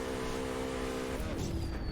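A BMW M3 GTR race car from Need for Speed Unbound, its engine droning steadily at high revs, then the pitch drops and shifts around the middle as the car slides, with faint tire noise over a constant roar.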